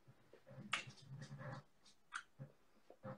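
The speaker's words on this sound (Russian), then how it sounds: "Собака!" A dog barks in a few sharp, separate bursts at moderate distance, with short quiet gaps between them and no one talking.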